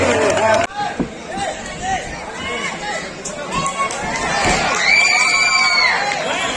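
Cheering and shouting crowd, children's voices among them, greeting the winner of a district wrestling dangal in Dhamtari, a loud, continuous mass of excited shouts with a voice talking over it.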